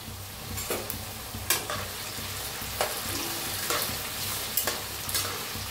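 Curry leaves frying in oil while being stirred for a crispy poha breakfast, a steady close sizzle broken by several sharp clinks and scrapes of a spatula against the pan.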